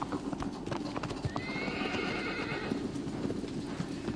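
Clip-clop of a black horse galloping in a PS4 video game, a rapid hoof rhythm throughout with a loud neigh in the middle, close and clear.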